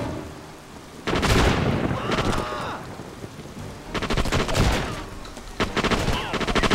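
Bursts of gunfire from the video game SOCOM 2 come in several sharp volleys of rapid shots, loud and close, broken by short quieter gaps.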